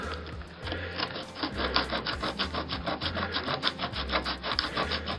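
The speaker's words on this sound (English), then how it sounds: "A bit of sandpaper" Sandpaper rubs against a model railway piece in quick back-and-forth rasping strokes, a close, dry scratching rhythm that speeds up and holds steady with no talk over it.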